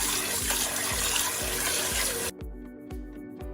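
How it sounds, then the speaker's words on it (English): Water swirled around basmati rice inside an Instant Pot to rinse it, a rushing splashy wash with rhythmic sloshing pulses, close and alone. "As you swirl the water around,"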